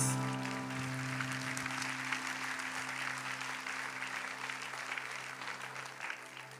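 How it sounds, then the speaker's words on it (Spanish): A church congregation breaks into full, steady applause that fills the room for several seconds, dense and close, with a low sustained hum beneath and no talking over it. "Aplaude a Dios."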